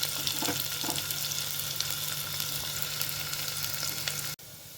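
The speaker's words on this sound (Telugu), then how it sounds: "మనం ఇందులోకి ముందుగా ఆనియన్స్ వేసుకొని బ్రౌన్ కలర్ వచ్చే వరకు వేయించుకోవాలి" Onions frying in fresh ghee for a vegetable pulao, a steady, dense sizzle with faint stirring scrapes that runs continuously and then cuts off abruptly near the end.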